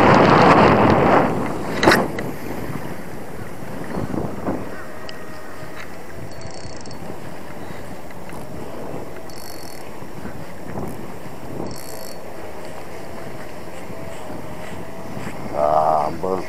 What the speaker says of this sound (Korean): 와 바람 왜 이래 많이 불러 갑자기